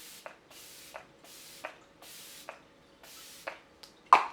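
A hydrating setting spray bottle sends out a series of quick, airy mists, about six even pumps in a row, close and soft, each with a faint click.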